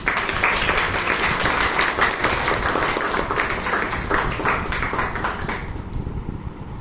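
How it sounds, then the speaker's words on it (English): Sustained applause from a crowd at a Toastmasters meeting in Bangalore, dense clapping throughout that gradually thins toward the end. "together let us warmly welcome our guests with a thunderous applause"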